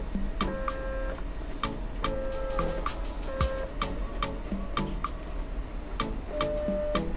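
A small stepper motor driven by an L298N motor driver whirs steadily at bench level, giving off a rhythmic ticking with tonal whines that shift in pitch as the speed is raised.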